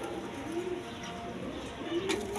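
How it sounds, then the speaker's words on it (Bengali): A pair of Bashiraj pigeons coo softly, two low drawn-out calls about a second apart over a steady background hum, with no voices. "এখানে এক পেয়ার বাসিরাজ কবুতর আছে, একদম কোয়ালিটি সম্পন্ন কবুতর"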